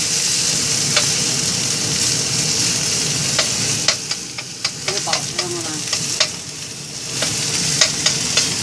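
Ginger and garlic sizzle in hot oil among potatoes in a frying pan, a loud, close, steady crackle with intermittent ticks and clacks of stirring.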